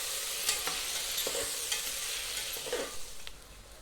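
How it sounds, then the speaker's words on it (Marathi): Potato and onion fry in oil for masala khichdi, giving a steady close sizzle with a few sharp spatula scrapes and stirring clicks scattered throughout. "व्यवस्थित याला पण तेलामध्ये असं छान फ्राय करून घ्यायचं"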